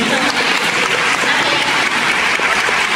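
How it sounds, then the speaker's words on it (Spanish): Loud, steady applause from an audience at the Cometcon Talent 2023 contest, greeting a participant; dense clapping fills the whole stretch without pause and with no voices on top. "Un aplauso muy fuerte."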